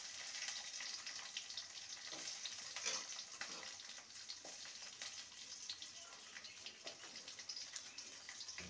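Chopped capsicum and grated ginger stir-fried in a pan, a faint, continuous hissing sizzle with light, irregular scraping of a spatula, quiet and without speech.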